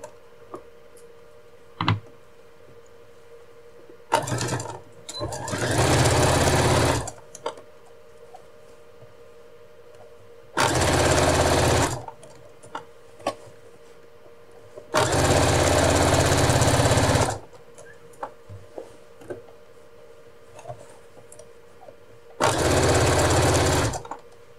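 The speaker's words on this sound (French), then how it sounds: "Je vais coudre ma ceinture à ma jupe." A sewing machine stitches a waistband onto a skirt in four bursts of steady rapid whirring, each a few seconds long, separated by quiet pauses with small clicks and handling noises.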